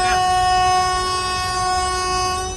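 A train horn on an Indian Railways locomotive, sounded automatically by the Kavach safety system, blares as a loud, sustained steady tone for the whole stretch over a low rumble of the moving train, with no talking.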